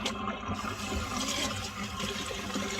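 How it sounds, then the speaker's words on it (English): Water draining from a basin after a synthetic wig is washed, a steady close gurgling wash of liquid running throughout without pause. "I am going to drain the water"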